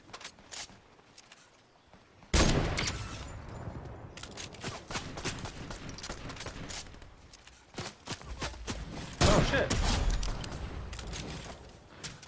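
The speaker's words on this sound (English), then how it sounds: "But they are shooting me though." Video game gunfire aimed at the player, with bursts of rapid shots and heavy volleys, loud and close, in irregular clusters with short quieter gaps between them and mechanical clicks in the pauses.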